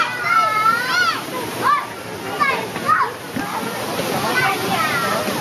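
A small waterfall runs with steady splashing water, while children's voices and chatter sit over the flow for most of the stretch.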